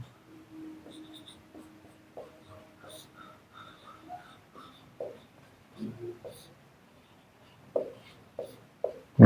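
Chalk or marker scratches across a classroom board during a maths lesson, a series of short scraping strokes and taps with pauses between them, fairly faint and close.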